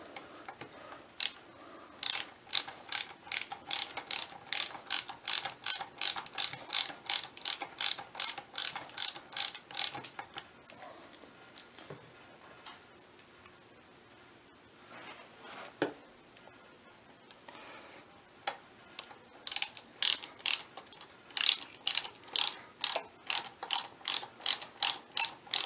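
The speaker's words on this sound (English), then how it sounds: "Take the ratchet, snug it up." A hand ratchet snugs a 6mm Allen head bolt on a Toyota Celica Alltrac GT-Four E153 transmission. Crisp, rapid clicking comes in long rhythmic runs, pauses for several seconds, then resumes close and loud.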